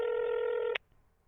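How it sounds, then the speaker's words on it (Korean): A telephone dialing tone in a visual novel video game holds as one steady electronic tone, then cuts off with a short click into near silence. "나는 떨리는 손으로 다급하게 전화를 걸었다."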